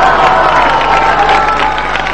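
Studio audience applauding for Tahir Shah: a short, loud burst of dense clapping and crowd noise, steady throughout.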